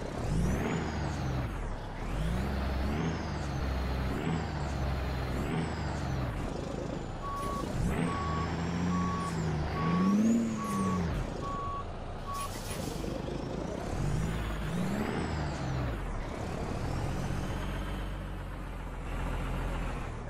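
Peterbilt 389 truck in American Truck Simulator reversing slowly: a steady run of evenly spaced reversing beeps over a low diesel engine drone that revs and rises at times, with hisses and whirs around it.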